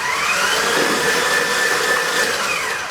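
Electric mixer beating red velvet cake batter, a steady loud motor whir holding an even drone throughout with no talking.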